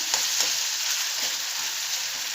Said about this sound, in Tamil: இந்த தக்காளியை நல்லா ஸ்மாஷ் பண்ணி ஓரளவுக்கு வதங்குற அளவுக்கு இது பண்ணிக்கணும்